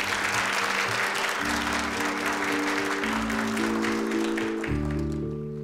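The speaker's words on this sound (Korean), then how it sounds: "뜨거운 박수 부탁드립니다" Dense, sustained audience applause at a corporate ceremony where SJ Construction's new headquarters director is introduced, filling the whole stretch with steady clapping over sustained background music that fades slightly at the end.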